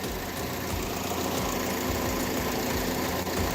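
A 2009 Chevy Malibu 2.4 liter engine idles with the hood up, a steady close mechanical hum with a faint ticking rhythm and no pauses.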